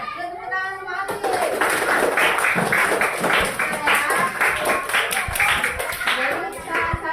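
Elementary schoolchildren in a classroom break into a burst of hand clapping that runs several seconds in a loose rhythmic patter, fairly close, with a voice mixed in.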